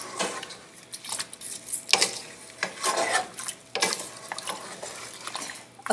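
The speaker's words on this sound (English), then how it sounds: "Mix everything well." Shami kabab ingredients mixed in a bowl: repeated close scraping, rubbing and clinking strokes in an uneven rhythm, fairly quiet, with no talking.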